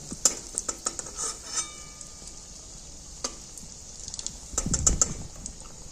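Potato and egg snack frying slowly over low heat in a pan, with a soft, steady sizzle broken by sharp clicks and scraping stirs, ending in a louder clatter.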